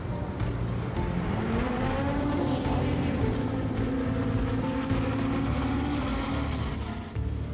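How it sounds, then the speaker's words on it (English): A vertical-takeoff quad plane drone carrying a zoom camera, modified for flying in Antarctica, gives off a steady, fairly loud engine and propeller drone that continues unbroken for the whole stretch, with nobody talking. "It's a quad plane, takes off vertically and then flies forwards like a plane."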